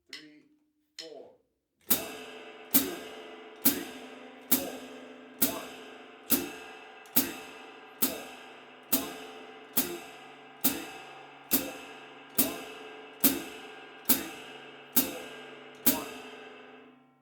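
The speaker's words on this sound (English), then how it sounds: "Let's do the ride cymbal and the hi-hat, okay, with the first basic pattern." A drum kit plays a basic beginner pattern on ride cymbal and hi-hat, a clean, even stream of sharp metallic strikes ringing out close and steady after a short spoken count-in.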